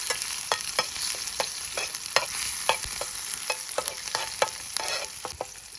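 Garlic fries in oil in a pan at an outdoor forest campsite. A steady sizzle runs throughout, broken by repeated sharp clinks and scrapes of a utensil stirring against the pan. No one speaks.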